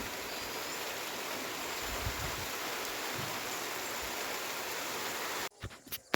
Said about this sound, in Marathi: अवकाळी पाऊस.